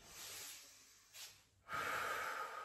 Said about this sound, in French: on expire